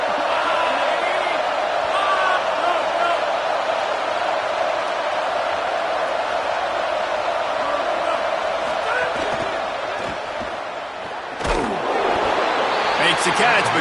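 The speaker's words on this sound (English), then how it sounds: "This crowd trying to make life miserable for this offense." A football stadium crowd at an OU versus ASU game keeps up a loud, continuous roar throughout, swelling slightly near the end, with a commentator's voice partly under it.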